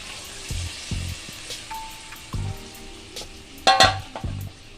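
Masala made with chilli powder is sautéed in a pan for egg tadka, a soft frying hiss broken by short low knocks of stirring against the pan and a brief louder scrape near the end.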